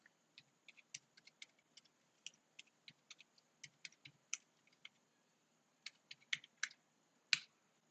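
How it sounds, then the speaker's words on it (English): Password being typed on a computer keyboard, a faint, close sequence of light key clicks in irregular bursts with short pauses and a few sharper final taps, no voices. "Then you need to type in your password."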